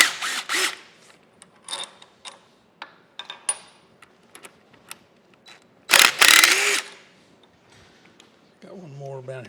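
Cap screws come out of the end cap on a Monarch lathe, with sharp ratcheting clicks and metallic clanks in uneven bursts, up close, followed by a longer rattle near the end.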